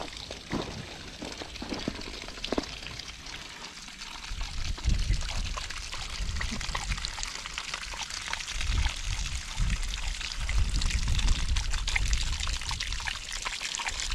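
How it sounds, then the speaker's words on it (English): Water pours and trickles steadily from a small dog water fountain, a continuous gentle splashing at close range with no voices. "Doggy water fountain. Thirsty dog."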